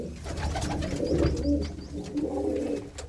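Pigeons coo repeatedly in a loft, with several soft overlapping calls close by and a little rustling in the background.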